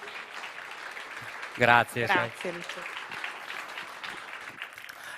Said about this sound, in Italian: Ok, un applauso.